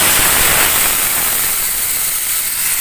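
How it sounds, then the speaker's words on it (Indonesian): Ground shallot, garlic and red chili paste hits hot oil in a pan, bursting into a loud, close sizzle that slowly settles into a steady hiss. "minyaknya sudah panas, kita masukkan bumbu yang dihaluskan ya guys"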